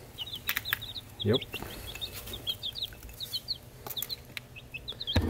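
Chicks feeding, giving repeated high, soft peeps and chirps throughout, with occasional rustles and pecking knocks and a brief spoken word.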